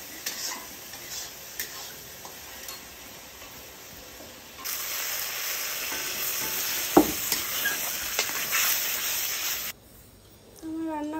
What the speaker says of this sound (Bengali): মাছ বানাচ্ছি আর এখানে বানাচ্ছি চিকেন।